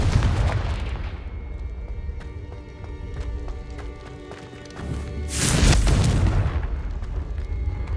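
A booming Confringo spell explosion in Hogwarts Legacy bursts out mid-clip, a heavy blast rising over continuous game music and ambience, loud and full.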